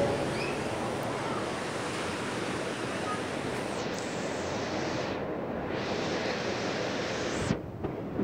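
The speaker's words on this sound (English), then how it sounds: "Big waves coming in." Big ocean waves roll in and break on a beach in a steady, loud, continuous wash of surf, with gusts of wind buffeting the microphone and no talk.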